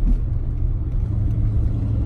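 Steady low engine rumble from a Rolls-Royce car while driving, with a smooth, heavy whirring drone running evenly throughout, close and moderately loud, no voices.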